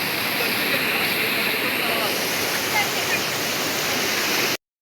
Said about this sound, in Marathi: हे बघा पाणी किती जोरात येतंय, किती जोरात पाणी येतंय